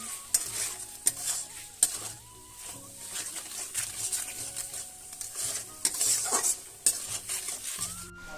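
A paste of ginger and cumin with salt and turmeric sautés in a pan: a quiet, close hiss of frying under repeated scraping and tapping of a spoon against the metal, with no voices.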